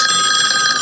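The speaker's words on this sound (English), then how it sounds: "That's the phone." A telephone rings in the TV show Garth Marenghi's Darkplace, a bright, steady electronic ring sounding loudly and alone in one brief continuous burst.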